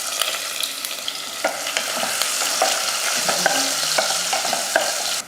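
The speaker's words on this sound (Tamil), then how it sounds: "வெங்காயம் பார்த்திங்கன்னா நல்லா வதங்கிருச்சு" Onion sautéing in oil with fennel seeds, bay leaf, clove, cardamom and cinnamon for idli kulambu, a continuous close sizzle with frequent spoon scrapes and clicks against the pan, no talk.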